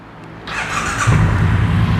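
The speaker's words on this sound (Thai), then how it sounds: "คันนี้ยังคงเป็นท่อเดิมนะครับฟังเสียงท่อคันนี้กัน" A 2017 Triumph Bonneville Bobber 1200 motorcycle with its stock exhaust starts up: a brief starter whir, then the engine catches and settles into a loud, close idle rumble.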